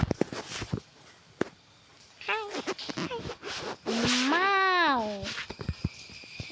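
A pet cat gives a couple of short, rising-and-falling meows near the microphone, set among light indoor shuffling and movement sounds.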